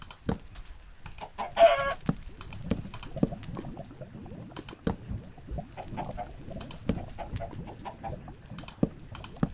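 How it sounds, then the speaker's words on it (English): Blocky Minecraft chickens cluck in short, scattered bursts over quiet game sounds and tapping, fairly faint with one louder squawk early on. "Oh no, the chicken!"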